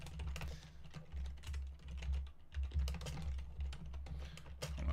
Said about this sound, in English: Hopefully my typing isn't too loud.